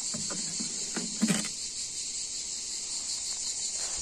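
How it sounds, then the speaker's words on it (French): Cicadas sing outdoors in a dense, steady high-pitched buzz that fills the whole stretch, with a few soft knocks near the start and no one talking. "Et ceux qui n'aiment pas les cigales"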